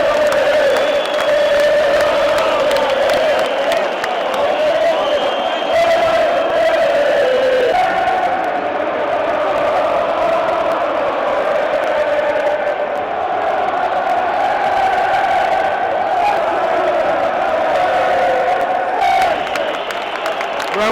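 Home supporters at a Real Madrid versus Manchester City Champions League match in Spain fill the stadium with loud, sustained crowd cheering and chanting, a dense roar that swells and continues throughout.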